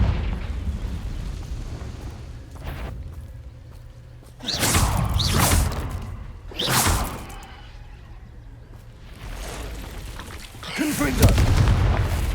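Repeated magical blast explosions from the Confringo fire spell in Hogwarts Legacy, several loud bursts landing a second or two apart over a steady rumbling battle backdrop.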